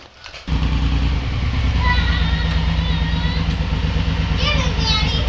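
Suzuki M109R motorcycle engine starts after a short lead-in and idles steadily with a deep, loud rumble close by, while children's voices chatter faintly over it.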